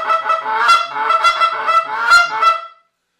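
A handheld goose call blown straight out imitates a goose, giving a quick run of loud, close, reedy honks one after another before stopping.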